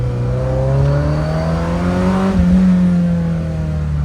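A 40-year-old Ferrari engine pulls hard in first gear, its rising harmonic note climbing steadily, then easing after a brief shift-like dip; loud, close and continuous with no talk.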